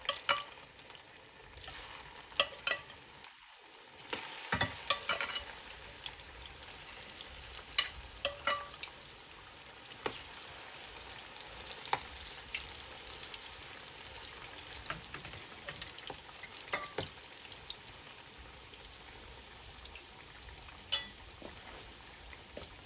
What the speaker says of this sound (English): Guys, my oil is hot now, so I'm going to start frying my plantain.